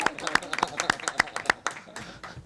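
Scattered hand claps ring out in a municipal council meeting room in Lambersart, a brief burst of several distinct claps under a speaking voice, fading after about two seconds.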